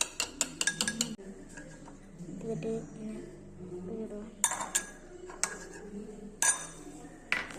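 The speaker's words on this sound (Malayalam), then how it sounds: "ശംഖുപുഷ്പം നല്ലോണം മിക്സ് ചെയ്ത് കൊടുക്കണം" Butterfly pea flower being stirred into a homemade soap mixture, sharp clinks and clatters of a utensil against a container in bursts, with a voice talking in the gaps between them.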